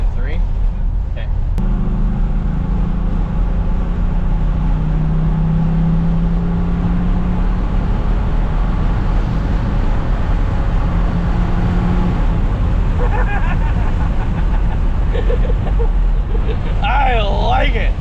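A car with a Texas Speed camshaft revving on a dyno, a steady loud engine drone rising in pitch through the run, with people talking throughout.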